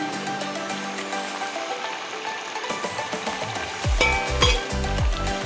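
Chicken frying in a clay pot with garam masala, chili powder and curry leaves, a steady sizzle with scraping stirs and clanks of a utensil against the pot toward the end, no voices.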